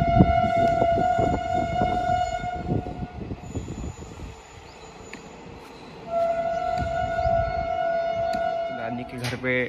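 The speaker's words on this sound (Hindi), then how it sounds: "वापस फिर ट्रेन आ गई है।" A train rumbling past close by with its horn sounding in long, loud blasts, a rattle of wagons between the blasts, and a voice talking over it near the end.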